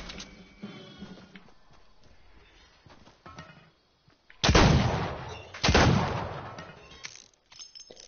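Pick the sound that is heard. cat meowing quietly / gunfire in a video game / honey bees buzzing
gunfire in a video game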